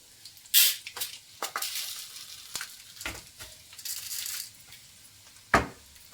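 Peanuts roast in a pan for puri churmuri, a soft frying hiss under irregular scraping stirs with a few sharper clinks.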